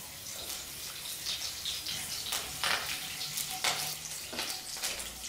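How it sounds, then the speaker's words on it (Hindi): Mustard seeds crackle in hot oil, tempering for South Indian lemon rice. A steady sizzle runs throughout, broken by sharp, scattered pops and snaps from the seeds, close and moderately loud with no talking. "और साथ में डालूंगी सरसों। सरसों थोड़ी सी क्रक हो जाएगा"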